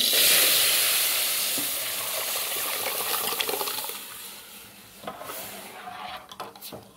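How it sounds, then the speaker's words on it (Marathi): Cooked chana dal poured into a hot turmeric tempering, a loud burst of hissing sizzle up close that slowly fades into softer bubbling and stirring clatter. "आणि आता ही शिजवलेली डाळ टाकून द्यायची"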